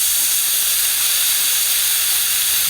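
Air hisses out of a pressurised two-stroke expansion chamber pipe through its valve, a loud steady close-up rush that holds evenly throughout with no talk.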